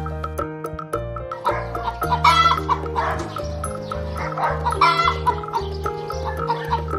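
A hen clucks in short bursts over a bouncy musical backing with sustained bass notes, the clucks repeating in a playful rhythm.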